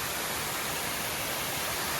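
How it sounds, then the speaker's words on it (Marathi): A forest waterfall in the Konkan countryside, a steady, loud broadband rush of falling water, continuous and close, with no other sounds. "हा बघा पूर्ण 12 मैल वाहणारा धबधबा आहे"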